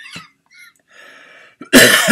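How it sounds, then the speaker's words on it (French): A single loud, harsh cough bursts out near the end, close and strong, after a few soft breathy sounds and brief quiet murmurs. "j'ai toujours ma petite toux là"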